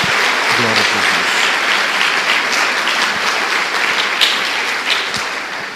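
Church congregation breaks into loud, sustained applause during a worship service, a dense continuous roar of many hands with scattered voices mixed in.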